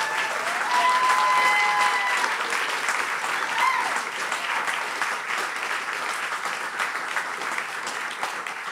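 An outdoor audience at a historical marker dedication at the Smith-Carter House applauds loudly and steadily, the clapping holding for several seconds before easing slightly, with a few brief tonal sounds within it.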